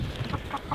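Chickens cluck on a farm kept with sheep and goats: a few short, quiet clucks spaced across a brief moment against soft background noise.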